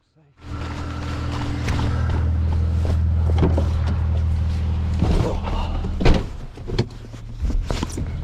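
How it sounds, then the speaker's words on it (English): A car approaching along a wet road, a steady low engine hum building and swelling nearby, with rustling and a few sharp knocks toward the end. "I hear a car coming already."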